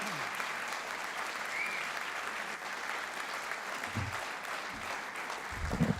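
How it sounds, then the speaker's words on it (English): A crowd at a Hall of Fame induction ceremony gives the inductees a round of applause, a dense, steady wash of clapping that holds evenly throughout with no voices over it. "can give all our inductees one more round of applause,"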